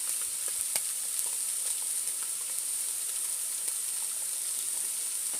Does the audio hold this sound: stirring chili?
yes